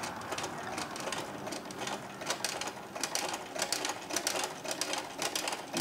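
A sewing machine stitching through painted canvas for a notebook, a fast, steady mechanical chatter that runs close and continuous without pause.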